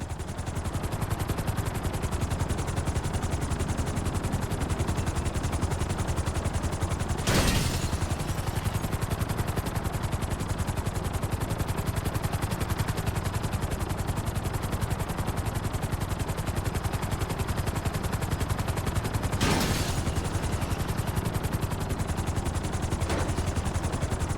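A helicopter in GTA 5 is set down onto a helipad: a steady, loud rotor and engine roar runs throughout, with two or three sharp broadband bursts cutting through.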